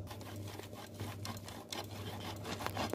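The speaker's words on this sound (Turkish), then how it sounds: "Kaşar peynirimizi ufak dişte rendeliyoruz ki üstüne serpeceğiz." Kashar cheese being grated on the fine side of a grater, a steady scraping rasp of repeated strokes over a low kitchen hum, close and moderately quiet with no talk.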